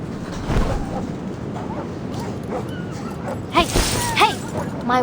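A dog in the video game Reverse: 1999 yips and whimpers in short, high bursts near the end, over a steady background bed and some talking.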